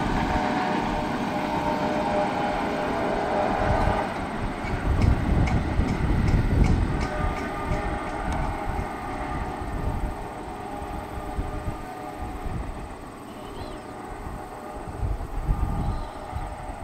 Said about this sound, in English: Lots of empty corn syrup tanks in the end of the train.